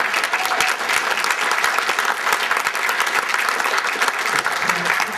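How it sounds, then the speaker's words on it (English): Convention audience applauding, a dense, steady wash of many hands clapping that holds at an even, fairly loud level for about five seconds without a break. "I think we need to give him another round of applause."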